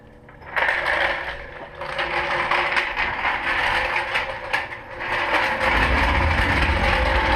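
A floor jack slowly lets a Mazdaspeed 3 back down onto its wheels after a tire rotation, giving a steady mechanical grinding and ratcheting with scraping texture, loud and close and continuing without pause for several seconds.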